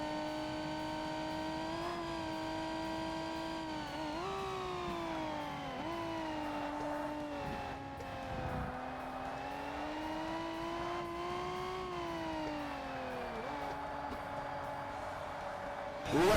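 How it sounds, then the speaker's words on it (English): A Bugatti engine revs in Forza Motorsport, a steady high mechanical whine rising and dipping with gear changes and throttle over sixteen seconds, loud and continuous, mostly alone. "Rev up the Bugatti."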